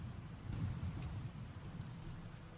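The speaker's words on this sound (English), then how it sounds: "I don't want Hollow Knight with rain sounds." Steady rainfall patters on a surface with a low rumble like distant thunder, a soft continuous wash of rain layered over Hollow Knight game music, fairly quiet and unbroken.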